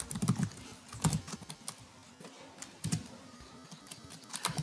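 Code is typed on a computer keyboard in short irregular runs of soft, close key clicks with brief pauses between bursts, fairly quiet and without speech.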